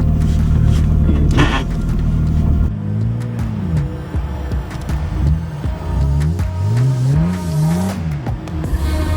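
A Jeep engine on a snowy off-road trail revs and labors as it climbs hills, with loud, uneven rises and falls in pitch over a constant rumble, close by.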